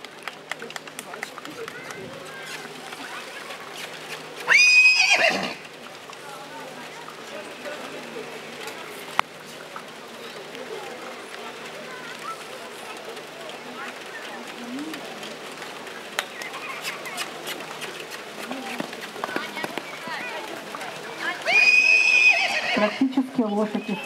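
Welsh ponies at a pony championship show at a zoo, with two loud whinnies rising out of a busy outdoor background, one early and one near the end, amid hoof clatter, birds and occasional talk.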